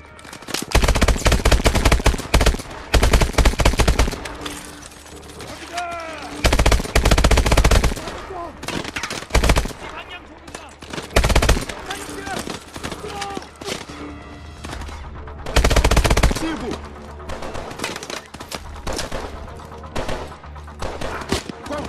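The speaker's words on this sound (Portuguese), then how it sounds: "Aí estão atirando em mim" Gunfire in the video game Call of Duty: Advanced Warfare, with repeated loud automatic bursts and single shots separated by brief pauses, plus explosions and game effects, all heavy and close throughout.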